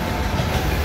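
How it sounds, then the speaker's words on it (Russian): An electric locomotive hauls a loaded coal freight train along the Trans-Siberian Railway, producing a dense, continuous rumble of rolling wagons with steady rail clatter, loud and close. "снимаю электровоз с этим грузовым поездом"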